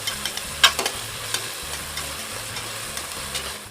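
Onion being stir-fried in a wok, a steady sizzle with a few sharp clanks of the utensil against the pan early on and a low hum beneath, close, no talking.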